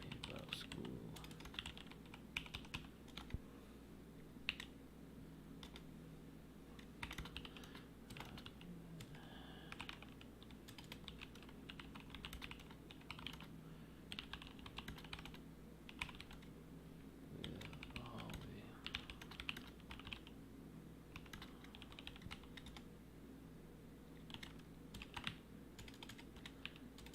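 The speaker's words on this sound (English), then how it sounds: "don't know why I'm typing so shittily right now" Steady typing on a computer keyboard during live script editing, a continuous run of quick, moderately faint key clicks with irregular bursts and pauses and a faint background hum.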